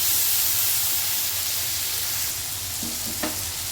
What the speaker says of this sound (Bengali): একটু মশলাটা কষবো।